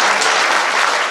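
Hearty applause from a gathered crowd at a Jain chaturmas kalash ceremony in Rana Pratap Bagh, many hands clapping rapidly and evenly, loud and sustained throughout the brief burst.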